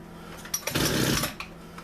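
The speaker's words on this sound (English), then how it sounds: "When you try to start up a small engine" A small engine with its spark plug wire just reattached cranks and briefly sputters to life, a short burst of rough, close combustion noise lasting under a second before dropping away.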